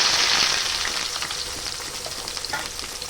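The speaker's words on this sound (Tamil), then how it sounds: "நல்லா வதக்கி விட்டுக்கலாம்" Sliced onions sauté in hot oil with fried fenugreek seeds, a loud steady sizzle that swells at first and keeps crackling as they are stirred in the pan.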